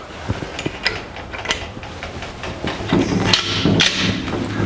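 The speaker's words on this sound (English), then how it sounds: "put the nut on. And tighten it down" A nut is tightened onto a threaded shifter bolt while a Hurst Quarter Stick shifter is installed on a TH400 transmission in a 1949 Chevrolet. Close, irregular metallic clicks, clunks and creaks come with brief pauses.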